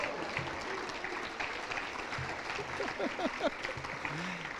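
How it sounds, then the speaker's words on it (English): Applause from the audience at an annual awards banquet, with steady clapping throughout and a few faint voices and cheers mixed in. "Let's have another round of applause"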